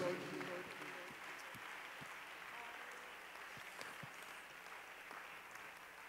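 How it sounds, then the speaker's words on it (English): A church congregation claps their hands, a faint continuous patter of clapping with a few distinct claps over a low background hum. "Clap your hands unto the Lord."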